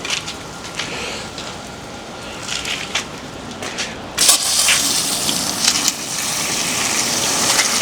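Water washing down tumbled opals, a steady splashing gush that grows louder and fuller partway through, running continuously without talk.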